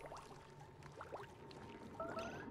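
Water flows in the video game Oxygen Not Included, a soft, steady pouring and splashing trickle that stays faint and continuous for the whole moment, with no voices.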